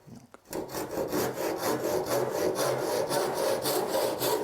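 A hand saw cutting wood with steady, rhythmic back-and-forth rasping strokes, close up, after a brief quiet start.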